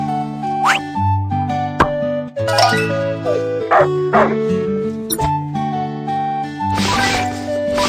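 Cartoon puppy barks and yips from a BabyBus pet care kids game, with a leg injury scene, set over a bright, steady game music loop; several short bark-like calls come through the melody.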